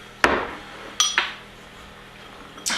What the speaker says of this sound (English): Mix that up, coat them with the flour.